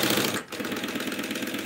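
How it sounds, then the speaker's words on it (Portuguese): Sewing machine running a safety seam on a handmade bag, a loud, close, continuous rattling hum with one short dip before it carries on. "Então vamos dar uma costura de segurança."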